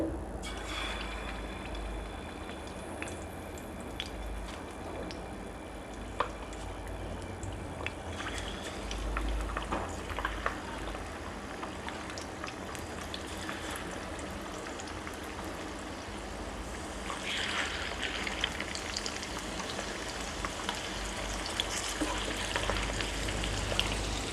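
Seer fish frying in hot oil in a clay pot, a steady soft sizzle and crackle with scattered pops, growing a little louder and hissier toward the end, with no talking.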